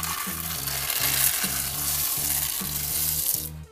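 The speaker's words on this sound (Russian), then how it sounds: "Ну, теперь будем засыпать туда семечки." Sunflower seeds pour into boiling syrup in a REDMOND multicooker, a dense rushing hiss and rattle of seeds over steady bubbling, close and continuous with no talking.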